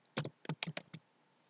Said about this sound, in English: You can go to the search and type PowerShell.